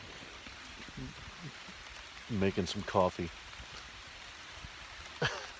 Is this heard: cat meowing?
no